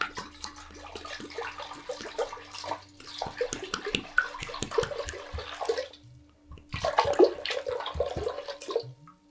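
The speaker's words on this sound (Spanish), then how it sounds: "el primer sonido que se presenta después de aperturar es el sonido del agua" Flowing, splashing water in an Andean sound bath, a gurgling and trickling stream with a steady low tone beneath, pausing briefly near the end before resuming.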